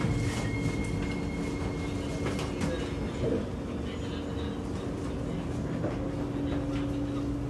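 A Kawasaki Heavy Industries and Nippon Sharyo C751B metro train in Singapore runs steadily, its continuous rumble and hum holding level throughout with faint rail clatter, close and unbroken, with no talk.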